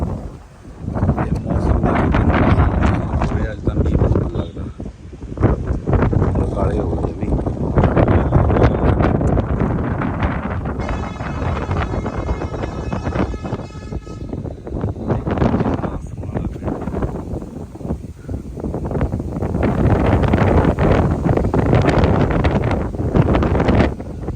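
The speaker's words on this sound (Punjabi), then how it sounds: "ਅੱਜ ਹਵਾ ਚੱਲ ਰਹੀ ਹੈ" Strong wind roars and buffets the microphone continuously, with gusts rising and falling throughout, loud and close.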